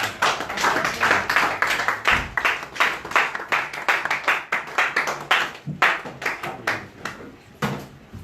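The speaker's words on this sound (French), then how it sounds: "Nous sommes debout et nous acclamons la parole de Dieu en nom de Jésus." A church congregation at a Paris worship service stands and applauds, with loud, steady rhythmic clapping from many hands that continues without a break.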